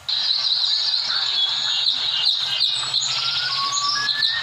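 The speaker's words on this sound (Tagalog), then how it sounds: "Then, Oriole. oriole." Oriole song played from the Animal 4D+ children's app, a steady stream of high, bright chirps and whistled tweets running continuously and fairly loud, with faint low murmuring underneath.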